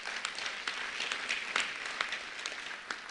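An audience applauds at a public address, a steady patter of many hands clapping, moderately loud and sustained, with no speech over it.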